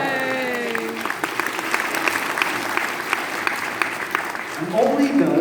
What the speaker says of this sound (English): Give it an applause.